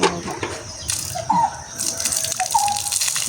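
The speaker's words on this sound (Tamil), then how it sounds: "சரி இதை பிடிங்க தண்ணியை ஊற்று" Water is poured from a container in a domestic setting, a continuous splashing gush with shifting trickles and a few clinks throughout.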